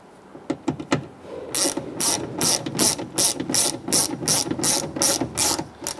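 A ratchet clicks in quick repeated bursts as it drives in the screw holding the plastic window guide channel inside a 2011-2019 Ford Explorer front door. A few sparse clicks come first, then a steady run of loud, close strokes with no talk.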